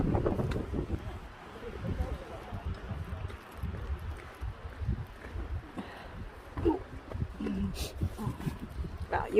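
Gusty wind on a cliff buffets the microphone in low rumbles, rising and falling, with people talking faintly now and then.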